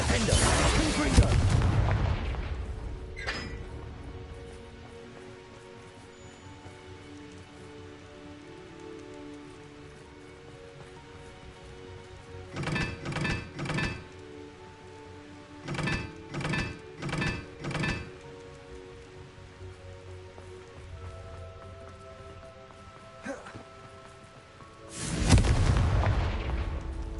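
Spell blasts burst out in the Hogwarts Legacy video game: a heavy blast opens, then clusters of sharp repeated zaps a little later, and a loud booming burst near the end over a steady rain-like ambient bed.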